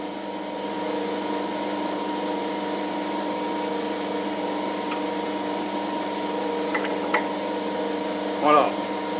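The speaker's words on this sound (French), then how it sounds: "On va percer directement avec le forêt, puis on va tarauder derrière." A cobalt drill bit boring into hard 40CMD8 steel on a metal lathe, a steady layered motor hum with faint scraping ticks, then a short grinding burst near the end.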